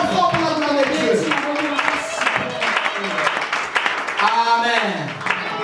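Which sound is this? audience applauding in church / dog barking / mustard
audience applauding in church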